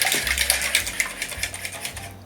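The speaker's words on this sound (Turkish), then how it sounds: "Arkadaşlar 3 tane yumurtayı çırpıyoruz." Rapid, rhythmic clinking of a utensil whisking three eggs by hand in a bowl for a chocolate-sauce cake batter, steady and close, with no voices.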